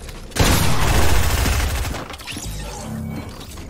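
Gunfire in the video game Fortnite, a loud sudden volley of rapid shots that bursts in near the start, then tails off into fainter game noise.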